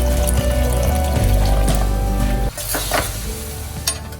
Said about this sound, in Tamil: இப்போ நான் கொஞ்சம் தண்ணி ஆட் பண்ணிக்கிறேன்.